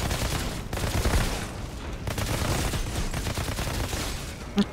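Bursts of blasts and rapid gunfire rumble through a firefight in the shooter game Outriders, dense and continuous at close range with a sharp pop near the end, no speech.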